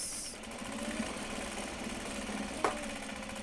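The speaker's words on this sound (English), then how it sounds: "I'm just doing dual straight lines of stitching" A sewing machine runs steadily, stitching double straight lines along a bag strap made from upcycled obi and kimono fabric, a fast even mechanical whir close by, then a short sharp click near the end.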